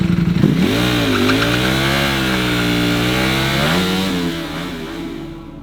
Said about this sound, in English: This is the motorcycle burnout.